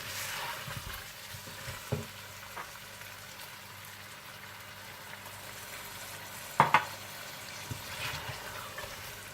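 Soft, steady sizzling of chicken and potato curry frying in a pan, with a few scrapes and clinks of a spoon stirring now and then.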